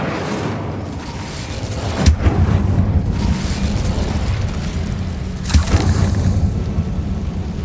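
Two heavy booms from the Bombarda blasting spell in Hogwarts Legacy, each a sharp explosive thud with a rumbling tail, spaced a few seconds apart over continuous game ambience.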